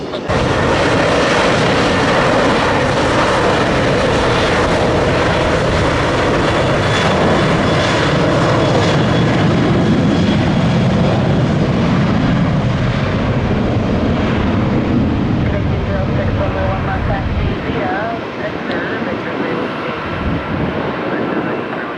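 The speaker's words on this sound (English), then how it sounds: "Southwest is using a lot of the runway this morning" A Southwest airliner takes off on the runway at Tampa airport with a loud, continuous engine roar that holds steady for over twenty seconds and then begins to fade.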